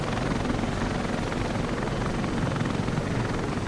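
A dense, steady engine roar fills the cockpit as an A-29B turboprop taxis in a flight simulator, loud and unbroken throughout with no voices.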